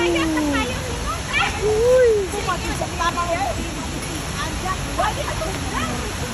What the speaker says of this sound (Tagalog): Tingnan nyo, guys. Napakalaking falls.